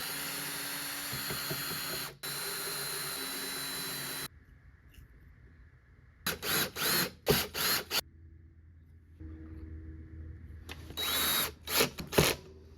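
Vacuum tubes are pulled and tube retainers fitted inside a 1976 Fender Musicmaster Bass amp, giving bursts of close scraping, clicking and rattling metal and glass separated by quieter pauses.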